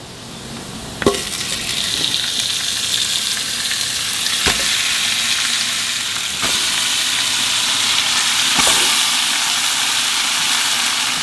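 Chicken fries with onion and spices for Kuwaiti majboos, giving off a steady, close sizzle broken by several sharp clanks as the pot is stirred.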